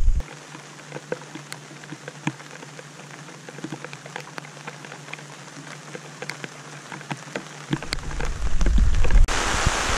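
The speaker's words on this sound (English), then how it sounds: "So as you can tell, it's gonna be another rainy camping trip" Rain falls steadily on a trailer at a campsite, with scattered sharp drops tapping over a soft hiss that thickens into a heavier, closer downpour in the final seconds, no talk.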